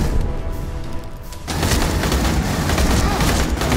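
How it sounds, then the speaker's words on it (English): Rapid chain gun fire in the video game Aliens: Colonial Marines, a dense loud roar of gunfire that bursts in after a quieter opening and continues to the end. "These guys have like chain guns."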